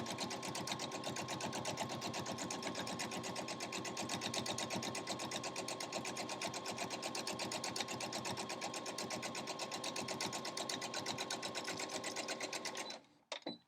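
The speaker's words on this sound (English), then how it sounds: "And then sew another 1/4 inch right down the side here." A sewing machine runs a steady, fast stitch for about thirteen seconds, sewing a quarter-inch French seam on fabric for a mini pillowcase, close and loud, then stops abruptly with a couple of small clicks.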